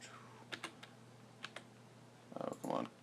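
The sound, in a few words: typing keyboard shortcuts on a computer keyboard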